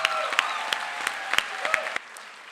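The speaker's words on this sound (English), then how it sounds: "Give them a real round of applause." Applause from an audience at a youth poetry slam, honoring the student poets: steady crowd clapping with sharp, individual claps standing out, then fading and dropping away near the end.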